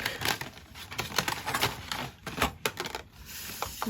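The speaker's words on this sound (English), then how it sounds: "Using my 3/16 inch hole punch." A 3/16 inch hand hole punch works through craft material for an art project, giving a quick series of sharp, close clicks and snaps in an uneven rhythm, with some brief crinkling.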